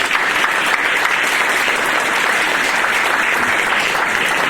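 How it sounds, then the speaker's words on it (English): A crowd at a Santa Cruz employer recognition ceremony claps loudly and steadily, a dense, even round of applause close by and sustained without pause. "let's give a nice round of applause for all the employers that have really recognized it"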